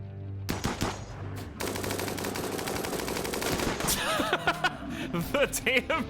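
Sustained rapid-fire minigun bursts in a video game, loud and continuous through most of the stretch, with scattered impacts and game effects toward the end.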